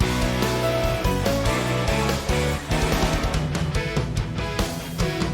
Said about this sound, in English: It's this very 80s pop sounding chord progression.